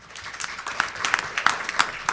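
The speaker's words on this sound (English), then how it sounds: "you can clap if you would like to" Audience clapping at a middle school band award ceremony during a board of education meeting, a light scattering of hands with a few sharper claps standing out, moderately close and steady for a couple of seconds.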